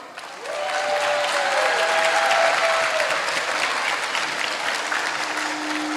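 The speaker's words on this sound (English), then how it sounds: "give a huge round of applause to all the students who participated today" A school audience claps steadily and loudly throughout, a dense wash of applause with a brief whistle near the start.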